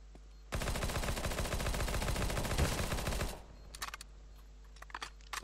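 Rapid automatic gunfire from Counter-Strike rattles loud and dense for about three seconds, then cuts off, leaving scattered clicks and faint background sounds.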